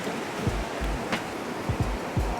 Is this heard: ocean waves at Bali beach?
yes